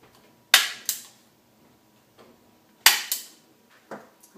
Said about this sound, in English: I'm going to staple them